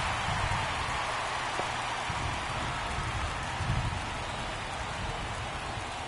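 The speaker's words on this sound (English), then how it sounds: "It's getting wet out there. It's been raining throughout." Steady rain falling at a baseball game, a constant hiss of drops on surfaces with no pauses, fairly even in level throughout.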